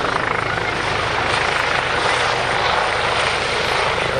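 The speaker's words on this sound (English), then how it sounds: "They'll just be shutting the helicopter down." A loud, steady helicopter engine roars up close at an airshow with continuous rotor whine, holding level throughout without pauses.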